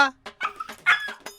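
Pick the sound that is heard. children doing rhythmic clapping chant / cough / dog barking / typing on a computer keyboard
dog barking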